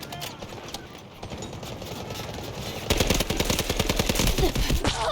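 Gunfire in the mobile shooter Delta Force Mobile, sparse shots at first, then a sustained rapid automatic burst of sharp cracks from about the midpoint, loud and dense to the end.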